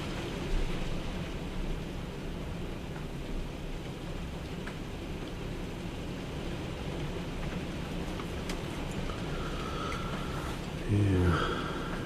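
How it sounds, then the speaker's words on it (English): Heavy rain pours in a dense, steady hiss, with low rumbles of thunder rolling underneath and a louder thunder burst near the end. "I shall have to wait in here until the rain leaves off."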